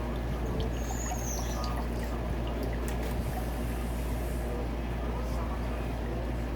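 Fork oil draining from a Yamaha YZ125 motorcycle fork during a suspension rebuild, a steady thin pouring trickle held close over a low constant hum, with a couple of faint chirps in the background.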